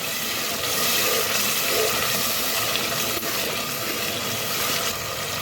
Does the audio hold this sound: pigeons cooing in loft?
no